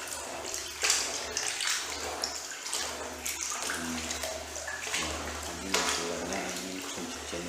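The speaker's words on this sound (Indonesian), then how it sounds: "kulit ini harus dicuci sampai bersih" Raw animal skin being washed for skin crackers, with continuous splashing and running water close by and a voice talking faintly underneath.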